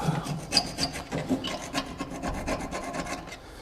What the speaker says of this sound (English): just using a scraper to get rid of this rust build-up.